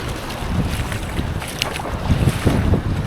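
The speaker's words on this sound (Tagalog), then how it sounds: "Malakas yung hangin na nanggagaling dito" Strong wind blows across a small boat at sea during a fishing trip, making continuous gusty rumbling and buffeting against the microphone, with faint water and hull sounds underneath.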